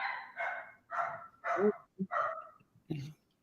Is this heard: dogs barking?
yes